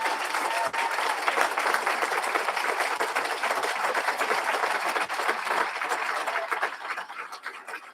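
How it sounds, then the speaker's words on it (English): A crowd at a prisoner-program graduation ceremony claps for a sheriff, a broad, sustained burst of many hands that stays loud and tapers slightly at the close. "Can we give Sheriff Mayhill another big gigantic round of applause?"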